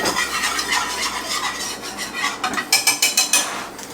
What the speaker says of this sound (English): Give this a stir